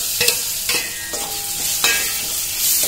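Tomatoes tipped into a hot pan of bitter gourd (karela) stir-fry with spices and coconut, sizzling steadily with several sharp stirring scrapes spread over a few seconds.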